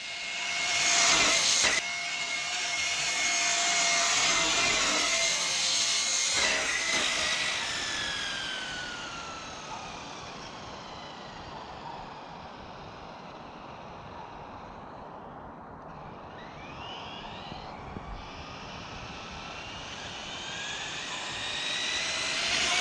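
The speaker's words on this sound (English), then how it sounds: "All right, lined up. 3S pass. Traxxas VXL." Traxxas Slash 4x4 RC car with a Traxxas VXL system on a 3S battery at full throttle at a jump spot: a loud, high electric whine sweeps past close by, falls away into the distance, then builds again near the end.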